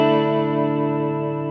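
A Universal Audio analog delay guitar pedal on its analog setting carries a sustained, warm guitar tone whose repeats blur into a steady, slowly fading tail, loud and without any voices.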